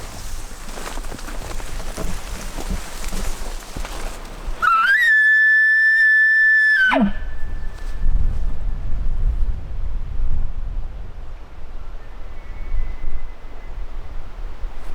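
A bull elk bugles once at a distance, a long high whistling call of about two seconds that rises and then drops into a grunt, heard over wind noise and rustling.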